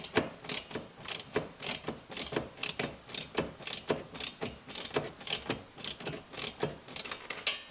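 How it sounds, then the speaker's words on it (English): A ratchet wrench drives an Allen head screw into the top of a Springtail/MPAC side rack on an FJ Cruiser, giving a steady run of sharp metallic clicks in quick repeated bursts, close and alone with no talk. "Put the Allen head in screw it in the top. And just start ratcheting."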